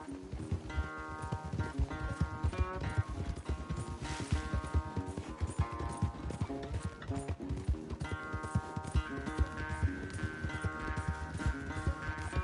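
Galloping horse hooves in the Red Dead Redemption 2 video game during a race back, a dense rapid clip-clop running steadily under a constant game music score throughout.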